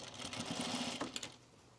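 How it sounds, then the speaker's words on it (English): A sewing machine stitches a seam on cotton pajama bottoms, a steady fast whirring run for about a second that slows and stops, followed by quieter handling noise. "And we'll sew it one more time."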